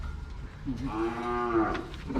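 One of ten small cattle on a livestock truck bound for Kut Chum district in Yasothon province lets out a single drawn-out moo over low road and engine rumble.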